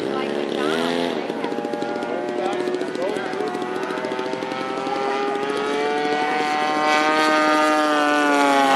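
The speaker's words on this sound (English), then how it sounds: "The one taking off now is the Razorback model." A Razorback model plane takes off at a model aircraft fly-in with jets and warbirds, its engine holding a steady, loud harmonic drone that rises in pitch toward the end, with a public-address voice talking over it.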